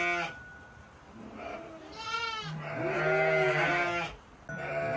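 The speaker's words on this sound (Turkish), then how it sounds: "Keçimiz bu." A farm goat bleats several times up close before being milked, wavering nasal calls of varying length that stand out clearly over quiet background noise.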